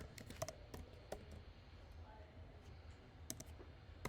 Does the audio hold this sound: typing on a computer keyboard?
yes